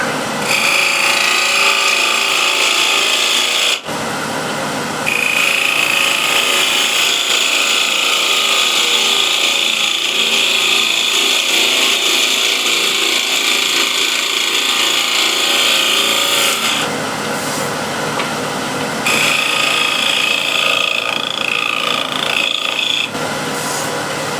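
A wood lathe spins while a spindle gouge makes a clean cut along the outside of a blank of poor man's ebony wood, giving a loud, steady scraping roar with brief pauses near four and seventeen seconds.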